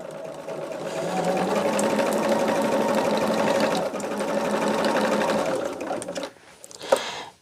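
A sewing machine stitches a mini project in a long, steady, whirring run, then slows and stops near the end with a few clicks, close and loud.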